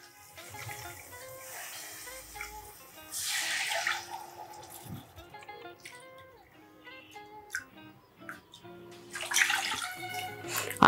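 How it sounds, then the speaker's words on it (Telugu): Two cups of water are poured into a cooking pan holding tomato and onion paste for cheesy street-style Maggi, giving quiet splashing and trickling bursts with pauses in between. "వాటర్ 2 కప్పులు పోసుకోవాలి."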